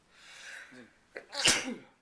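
A single close, sharp sneeze follows a short drawn-in breath, with nothing else heard around it.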